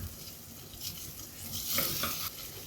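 Ginger garlic paste stirred with onions and green chillies in ghee in a cooker, a soft continuous sizzle under gentle scraping strokes of a spoon, close and fairly quiet.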